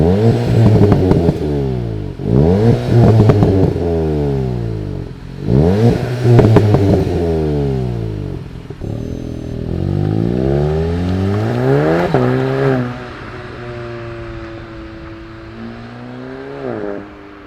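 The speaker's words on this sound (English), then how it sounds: "the iconic GTI dual exhaust here in the rear that we're gonna take a listen to" A 2019 Volkswagen Golf GTI TCR revs through its dual rear exhaust in several sharp, loud bursts, the engine climbing and dropping repeatedly before settling into a lower, steadier idle.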